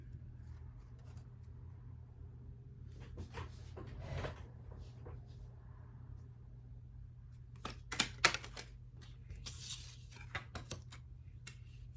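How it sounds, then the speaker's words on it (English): Tarot card decks being shuffled by hand, with soft rustling riffles and card slaps in short bursts, a cluster near the start and a sharper, busier run later, close and fairly quiet over a low steady hum. "I'm hyper aware of holding the decks possibly incorrectly and not knowing that and then shuffling with them"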